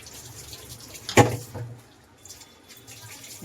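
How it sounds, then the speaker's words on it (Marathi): Water poured into a maida flour batter for poha cutlets, a short close splash and trickle that fades into quiet kitchen background. "म्हणजे टाकणार आहे थोडं पाणी"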